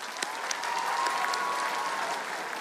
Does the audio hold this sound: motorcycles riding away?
no